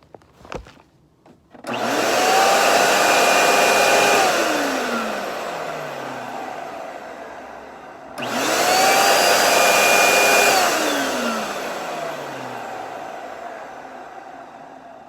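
A Eureka Victory vacuum cleaner whines loudly twice, each time spinning up to a steady roar, running for several seconds and then winding down, with a short pause between the two runs.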